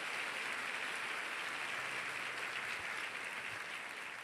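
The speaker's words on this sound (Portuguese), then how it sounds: "Dando um aplauso bem lindo ao Senhor Jesus." Church congregation applauding to the Lord Jesus during a sermon; a steady wash of many hands clapping together, moderately distant and even throughout, with no clear talk.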